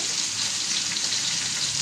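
Cauliflower fries in hot oil with ginger and garlic, giving a loud, steady, continuous sizzle close to the pan, unbroken and alone, with no voices over it.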